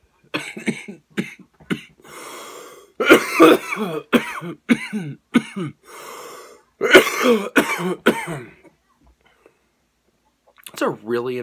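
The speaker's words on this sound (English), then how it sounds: "I always cough when I smoke flower or vape flower." Repeated harsh coughs and throat clearing after smoking cannabis flower come in bursts, close and fairly loud, separated by short quiet gaps.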